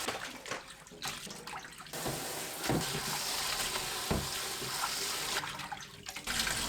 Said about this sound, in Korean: 찬물에 헹굽니다.